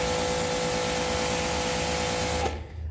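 Sun Joe SPX4600 electric pressure washer spraying through a 0-degree nozzle at maximum pressure, a loud steady hiss with motor hum that cuts off abruptly near the end, no talking.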